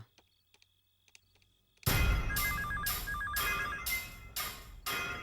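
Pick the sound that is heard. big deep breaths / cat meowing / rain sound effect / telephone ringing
telephone ringing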